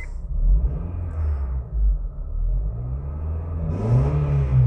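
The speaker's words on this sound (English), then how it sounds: "We're just gonna rev it a little." A modified car engine revs steadily at close range, a low rumbling drone that swells and dips with the throttle and rises again toward the end.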